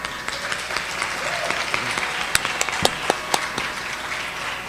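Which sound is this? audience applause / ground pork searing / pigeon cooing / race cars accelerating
audience applause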